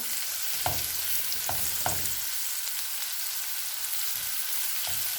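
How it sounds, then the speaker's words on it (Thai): Mushrooms frying in oil in a pan, a steady crackling sizzle with a few louder stirring scrapes and clacks of a utensil, close and alone with no talk. "ใส่เห็ดลงไป"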